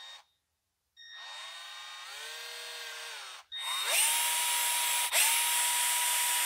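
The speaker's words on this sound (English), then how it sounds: "You drill a hole right where the bolts go." Power drill boring bolt holes in a homemade oil pan gasket for a heavily modified Japanese tuner car, several whining bursts of drilling that rise and fall in pitch, with short pauses between them.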